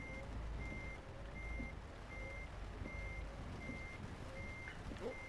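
In Euro Truck Simulator 2, a truck's reversing alarm beeps at an even rhythm, about seven evenly spaced tones over a low engine drone, fairly faint, with no voices.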